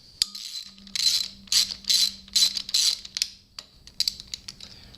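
Socket ratchet clicking while loosening bolts on a Suzuki GS550 motorcycle, a series of quick bright ratcheting bursts in steady rhythm, close and clear with short gaps between strokes.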